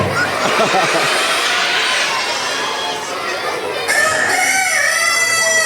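Person mimicking a rooster's crow with the mouth at a school event, a loud drawn-out imitation call with a second rising burst, over a chattering crowd of children.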